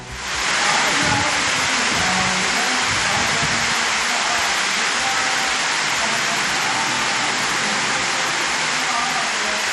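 Heavy rainwater gushing down the hill temple stairway at Palani during a downpour, a steady broadband roar of rushing water close by, constant throughout without a break.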